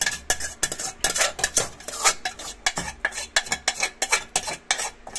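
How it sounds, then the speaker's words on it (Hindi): A spoon scrapes and clanks against a pan as food is stirred continuously to keep it from burning, producing rapid, rhythmic metallic scrapes and taps, close and clear, with no talking. "चलाते रहने का है अभी, वरना ये एकदम से जल जाएगा।"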